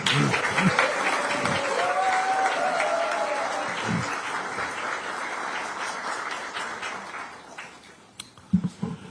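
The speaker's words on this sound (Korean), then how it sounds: "여러분 여기서 박수 한번 보내주시죠" A crowd at a Korean Democratic Party leadership meeting applauds steadily for several seconds, dense clapping that gradually thins out and fades, with a few scattered claps at the end.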